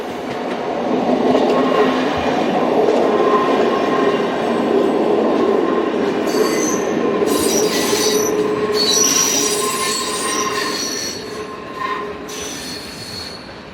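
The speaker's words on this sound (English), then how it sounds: "Here, Class 567 number 171 arrives from the Fribourg direction." A Class 567 electric train arrives, its wheels giving a steady rail rumble, then sharp, repeated high squeals that come and go in bursts toward the end.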